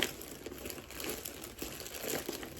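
Soft crinkling and tearing of thin plastic packaging, steady rustling close by for a couple of seconds, with no talking.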